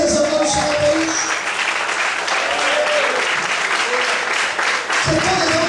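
A church congregation applauds steadily as a sustained wash of clapping, with voices and cheers rising over it throughout.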